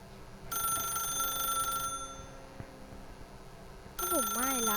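A telephone in the video game The Stanley Parable rings in two electronic bursts, loud and close, separated by a pause; a voice speaks faintly under the ringing.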